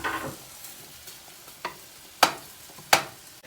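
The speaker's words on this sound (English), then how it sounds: "Let this saute." Onions and fried rice sauteing in a pan: a soft background sizzle punctuated by several sharp scraping stirs, the last two loud and close, spaced about a second apart.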